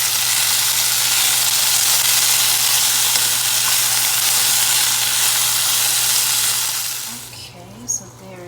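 Mushrooms and peppers sauteing over a low flame in a pan give a steady, close sizzle for about seven seconds before it drops away; a few faint clinks and rustles follow.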